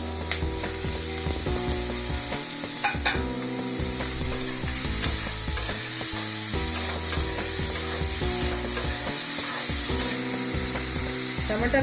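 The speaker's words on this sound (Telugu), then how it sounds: "క్యాప్సికమ్ కొంచెం వేగింది. ఇప్పుడు టమాటాలు" Capsicum and tomatoes frying in oil in a kadai pan for restaurant-style kadai paneer, a steady close sizzle with scattered scraping and stirring knocks throughout, no voices.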